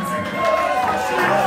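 A metal concert crowd at a show cheers and shouts in a loud, dense roar, with a voice speaking over the noise for a brief moment.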